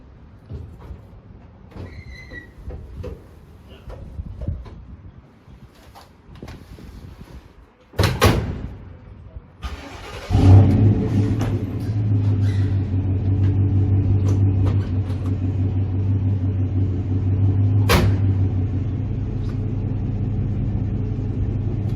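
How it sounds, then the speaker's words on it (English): A 1957 Chevy, just pulled out of storage, cranks over strongly and catches, settling into a steady loud rumbling idle, preceded by clunks and a door-like thump. "I'm surprised how strong that started though. I mean, it's cranking over pretty strong."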